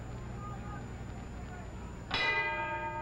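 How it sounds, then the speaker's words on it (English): A boxing round bell rings out at a heavyweight title fight, a bright metallic clang that cuts in suddenly over the steady crowd noise and rings on with a lingering tone. "And there's the bell."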